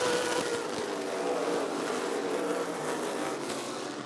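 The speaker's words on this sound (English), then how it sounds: "Max Kaler on the inside of Mikey Briner as they're going to battle it out." NASCAR late model race cars battle side by side at Rockford Speedway, their engines making a dense, steady roar with a buzzing drone that fades slightly toward the end.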